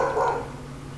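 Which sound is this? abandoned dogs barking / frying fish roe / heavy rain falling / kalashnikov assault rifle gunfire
abandoned dogs barking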